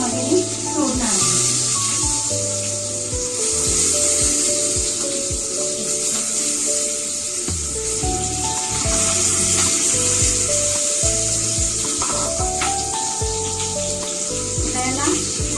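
Peanut-stuffed green chillies fry in hot oil for a spicy Maharashtrian dish, giving a steady bright sizzle throughout while background music plays and a person talks.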